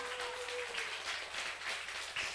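Steady applause from a lecture audience, Korean speaker event, a dense broadband patter of many hands sustained evenly for a couple of seconds.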